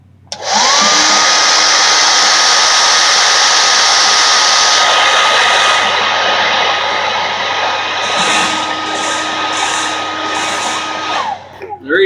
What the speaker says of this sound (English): So we're gonna take our hair dryer here and keep heating it up